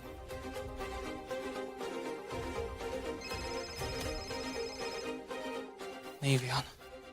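A repeating electronic ringtone melody plays steadily, with a brief burst of voice near the end.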